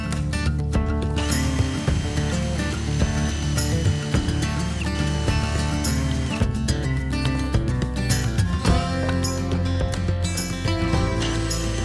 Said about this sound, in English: we are gonna put 2 pocket holes on each end of only 4 of these guys